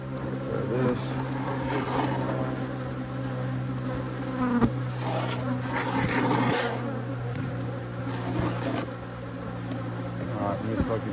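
A dense swarm of honeybees drones steadily around an open hive while frames of honey are moved, the close, continuous buzz running throughout with occasional soft voices underneath.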